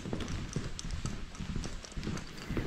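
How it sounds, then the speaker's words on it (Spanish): Hooves of a horse pulling a carriage clip-clop steadily over a bridge in a Mennonite community in Canada, close and fairly loud, with a busy rhythmic patter throughout. "simplemente carro pequeño y las carrozas con los caballos."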